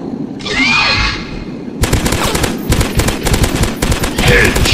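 Rapid automatic gunfire from a hunting video game, Dinosaurs Hunter, crackles in a long, loud, steady burst after a brief rising whoosh, with another whooshing sweep near the end.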